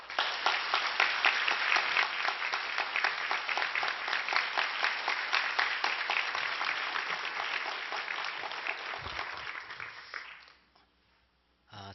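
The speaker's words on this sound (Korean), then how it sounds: "나오실 때 큰 박수로 환영해 주시기 바랍니다" Audience in a church service applauding to welcome a guest pastor to the pulpit, sustained dense clapping for about ten seconds that fades out abruptly.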